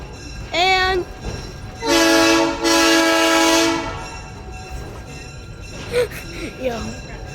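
Locomotive horn at a national railroad museum in Green Bay sounds a short blast, then two long loud blasts close by, with a voice and a short tonal call following near the end.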